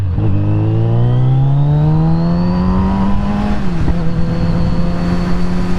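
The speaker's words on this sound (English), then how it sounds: "I do love the way this engine sounds on here. Kawasaki are masters, aren't they, of the 4-cylinder." A Kawasaki four-cylinder motorcycle engine revs up through a smooth, rising howl, close and loud, easing off briefly before holding a steady high note, with wind rush underneath and no talk.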